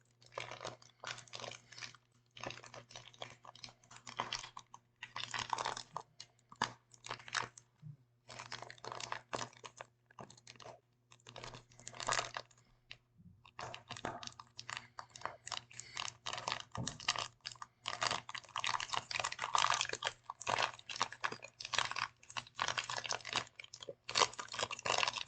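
Colorized origami paper is handled and unfolded up close, giving soft intermittent crinkles, taps and rustles in irregular bursts, quiet and intimate with no voice.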